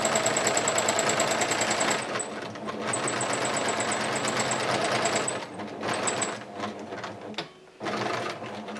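A sewing machine runs a decorative stitch along a tote bag, loud close rapid needle chatter in bursts that slow and stop briefly, then restart.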